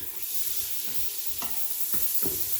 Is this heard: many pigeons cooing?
no